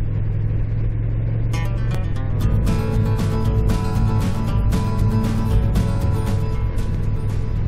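A motorcycle rides along a road on a mild February day, its engine droning steadily and close throughout with a constant rumble and wind noise, with no talk.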